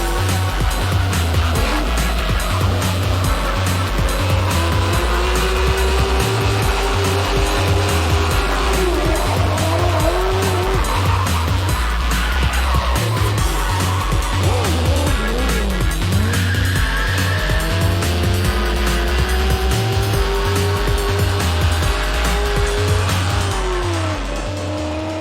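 Drift race cars, including a Drift R S15, revving hard as their tires squeal and skid almost without pause, with engine notes rising and falling loud and close throughout.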